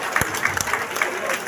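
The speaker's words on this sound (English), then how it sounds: "There is a standing ovation." An audience at the Ogwa Ika 2023 gathering in Agbor rises in a standing ovation, a steady wash of crowd clapping with sharp individual claps standing out nearby.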